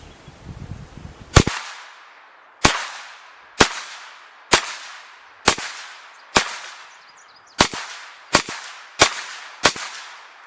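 Hi-Point carbine firing at a 100-yard target, ten sharp gunshots spaced roughly a second apart, each a loud close crack with a short decaying tail, following a brief rustle of handling noise.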